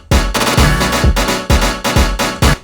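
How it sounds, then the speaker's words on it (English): A four-to-the-floor house kick drum programmed in Ableton thumps steadily about twice a second, loud and punchy, inside a dense full mix with no voices. "we obviously need a 4-to-the-floor kick"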